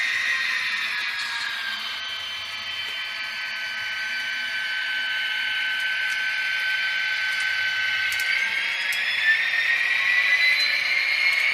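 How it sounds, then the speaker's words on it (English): A model locomotive's dynamic brake gives a steady, airy whine with a slowly shifting high tone, continuous and fairly loud throughout with no talking. "And here's the brake noise."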